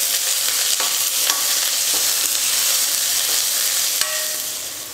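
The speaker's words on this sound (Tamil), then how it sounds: "வெங்காயம் நல்லா வதங்கிடுச்சு" Finely chopped onion fries in a pan for a Tamil ponnanganni keerai poriyal, giving a loud, continuous sizzle with a few sharp stirring scrapes and clicks and no voices.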